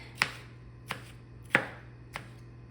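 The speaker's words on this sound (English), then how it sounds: "Just gonna dice this up really quick." A knife dicing hamburger pickles on a cutting board, four crisp evenly spaced chops close up over a low steady hum, with no talking.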